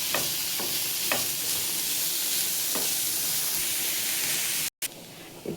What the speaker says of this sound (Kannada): ಈ ತರಕಾರಿ ಫ್ರೈ ಆಗ್ತಿದೆಯಲ್ಲ,